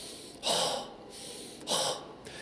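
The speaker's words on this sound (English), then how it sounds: "just a quick breath in through the nose" Two quick, sharp breaths drawn in through the nose, about a second apart, close and clear with a hissy, sniff-like rush, demonstrated during a vocal warm-up.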